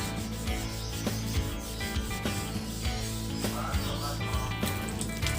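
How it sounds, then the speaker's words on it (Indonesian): Sandpaper rubs steadily by hand over a Honda Sonic motorcycle body panel before painting, close and continuous scraping strokes in a quick back-and-forth rhythm. "Nah, jadi saya amplas biar hasilnya makin maksimal"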